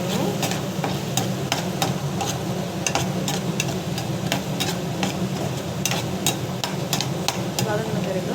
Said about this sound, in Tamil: இது பார்த்திங்கன்னா நல்லா வந்து வதங்கணும்.